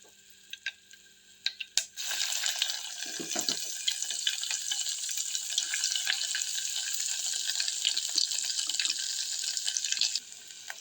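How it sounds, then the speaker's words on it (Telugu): A few light knocks, then a loud burst of sizzling as mint chutney paste hits hot oil, crackling steadily and close until it abruptly stops. "ఈ పేస్ట్ని ఈ ఆయిల్లో వేసుకుంటున్నాం."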